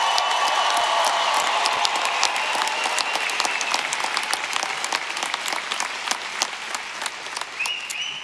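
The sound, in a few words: applause for the graduates at a commencement ceremony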